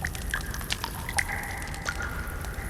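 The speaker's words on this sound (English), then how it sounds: "Water's getting louder." Water drips in a cave in the survival game The Forest: scattered, irregular plinks and splashes, some sharper and nearer, over a constant low rumbling water background.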